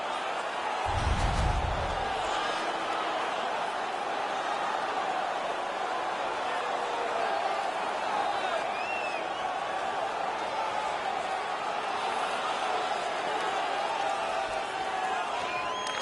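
Steady crowd roar fills an arena during an ice hockey video game, a continuous wash of cheering and noise that holds at an even level throughout, with a brief low thump near the start.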